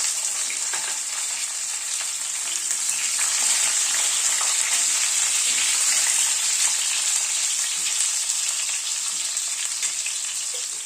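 Papaya and carrot hit hot oil and tempering spices in a pan, giving a loud, steady frying sizzle that holds for about eleven seconds with faint stirring clatter underneath, no voices.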